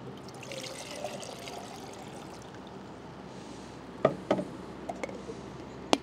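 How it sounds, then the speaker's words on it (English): Two cups of water pour into a JetBoil stove pot outdoors, a steady soft trickle under the whoosh of a camping fan running on high, followed by a few light knocks. "let's start by adding 2 cups of water"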